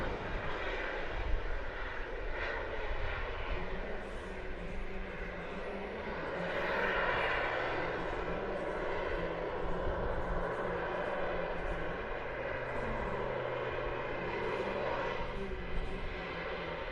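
A fixed-wing aircraft flies over the Leszno airshow, its engine droning steadily and at a distance for the whole stretch, rising and falling slightly as it passes, with no talk over it.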